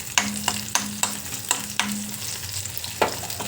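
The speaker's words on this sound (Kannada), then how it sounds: "ಬೆಳ್ಳುಳ್ಳಿ ಹಾಕ್ತೀನಿ. ಇದು ಎಣ್ಣೆಲಿ ಹುರ್ಕೋಬೇಕು." Garlic frying in hot oil for sambar, a soft sizzle under repeated close scraping stirs of a spatula against the pan at an uneven, steady rhythm.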